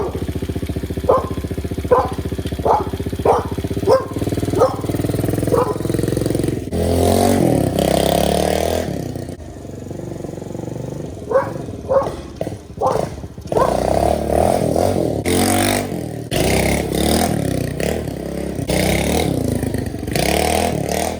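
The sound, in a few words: 1968 Pontiac Firebird engine running and revving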